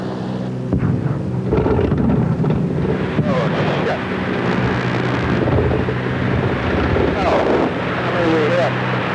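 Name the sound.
strange engine noise on a flying boat aircraft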